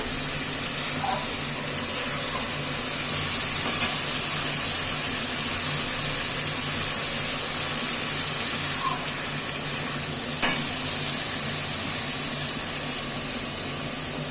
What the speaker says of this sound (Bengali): পোস্ত বাটা দিয়ে এখন আমি একটু কষব